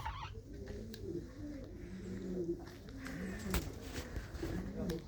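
Pigeons, a pair kept by a hobbyist, coo softly and repeatedly in low rolling calls, fairly near, with a voice talking over them and faint shuffling in the background.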